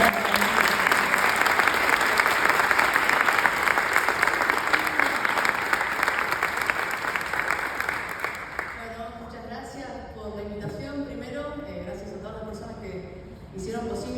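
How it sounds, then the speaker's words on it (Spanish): An audience applauds at a Spanish-language talk event honouring a woman journalist, sustained dense clapping for about eight seconds before it thins out under a speaking voice. "Fuerte el aplauso para ella."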